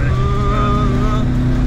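Renault 5 Turbo 2 engine under way, a loud close steady drone with a rising and falling tone as the car accelerates through a gear, no talk.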